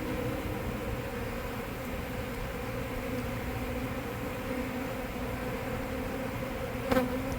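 Dense, steady buzzing of a honey bee swarm inside a bathroom wall fills the whole stretch, a continuous drone with one brief louder burst near the end.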